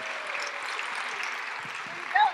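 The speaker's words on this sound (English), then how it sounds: "Everybody, please applaud for Andrew Curtis" An audience at an Ignite Denver speed-round event claps and cheers as a presenter comes on stage, a broad steady wash of applause with a brief whoop near the end.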